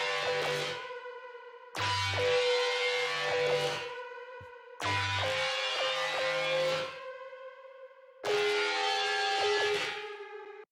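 A layered synth bass from a music remake, metallic yet melodic, plays in four loud sustained phrases with gaps between them, each bright and harmonically rich with shifting notes, with no voices.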